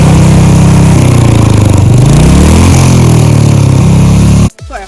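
A motorcycle fitted with a Pea Shooter aftermarket exhaust runs loud and steady at close range, its low droning engine note wavering slightly in pitch before cutting off abruptly near the end.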